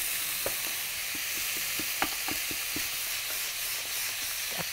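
Pastries frying in hot oil give a steady, close sizzle and hiss, with small pops and crackles scattered throughout and no voices.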